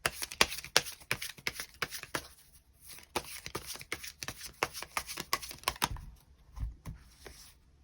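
Tarot cards are shuffled close up in a long run of quick, crisp riffles and slaps, with a short pause midway before the shuffling resumes.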